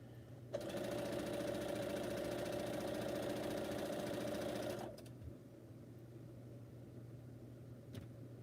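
A sewing machine stitches quilt strips in a steady, loud mechanical whir for about four seconds, then stops, leaving a low background hum and a couple of faint clicks.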